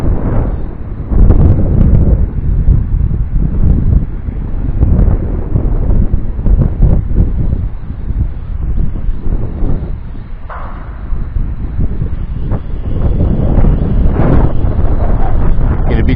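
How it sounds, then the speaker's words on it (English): Strong wind buffets the microphone outdoors during a TYH TY-T6 Phantasm drone flight, a loud continuous low roar with gusty surges throughout and no speech. "that's the actual wind there, guys, pushing it back towards me"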